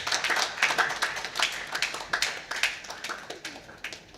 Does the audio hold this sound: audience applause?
yes